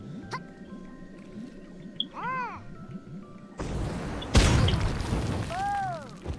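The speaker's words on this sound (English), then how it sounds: "I think the crate blew the fire back at you when it blew up" Wooden crate blowing up in the artillery game Worms: Revolution, a sudden loud blast and crackling burst amid whistling game effects, followed by a fading rumble.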